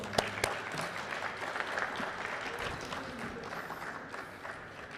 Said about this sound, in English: welcome him by giving a big round of applause for him.